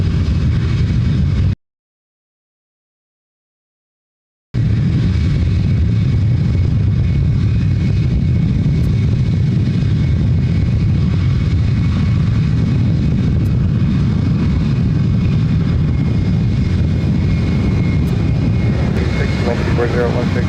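An airplane arriving from Atlanta at Ontario, California airport roars with a loud, steady engine drone. A brief silent gap comes early, then the rumble continues unbroken.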